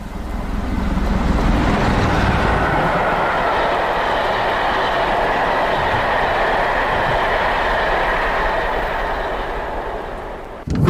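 A moving train heading toward a tunnel gives a loud, continuous rolling rumble with faint wheel clatter that holds steady for about ten seconds, then eases off slightly at the end. There is no talking.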